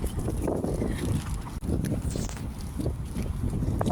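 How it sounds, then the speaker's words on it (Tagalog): Strong gusting wind buffets the microphone outdoors with continuous low rumbling and flapping, loud and steady for a few seconds with no talking. "Super mahangin, uy."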